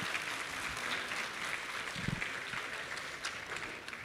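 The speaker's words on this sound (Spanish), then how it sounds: "Le damos un aplauso de bienvenida a la doctora Ximena Rebolledo." Welcome applause from an audience at a university talk on AI in research and learning, a steady wash of clapping that fills the whole stretch at moderate loudness with no voices over it.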